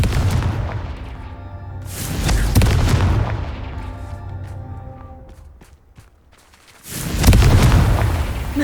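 Confringo blasting spell going off in the Hogwarts Legacy video game: loud, deep booming bursts with crackling rumble, one around the two-second mark and another after a brief lull, over ongoing game sound.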